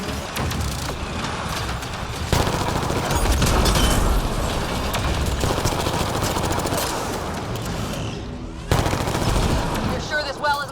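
Sustained automatic turret gunfire in the video game Mass Effect: Andromeda, dense rapid bursts with booming impacts running nearly continuously, loud and close, with brief lulls, and voices speaking over parts of the battle.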